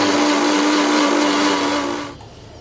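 An electric mixer blender on speed 1 whirring loudly and steadily while mixing eggs, a close continuous motor drone that winds down and cuts off after about two seconds.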